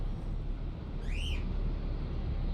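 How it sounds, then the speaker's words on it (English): A pet bird lets out a single short whistled chirp that rises and falls, standing out over a steady, noisy background hum. "it sounds like my little birdie is getting frustrated."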